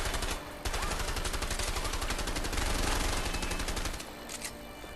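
Gunfire in the video game A Way Out rattles in dense, sustained bursts, loud and close, with a short break near the start and fading to scattered shots at the end, no talking.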